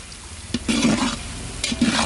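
Food roasting in a pan for a biryani feast: a loud close sizzle with brisk scraping stirs, two bursts of stirring separated by a brief pause.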